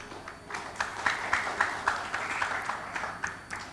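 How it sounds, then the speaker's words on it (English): Sparse, soft clapping from a small audience at a conference plenary session, honoring the session's five speakers; individual claps are distinct and fairly quiet with no talk over them. "give a big round of applause for all of our 5 speakers."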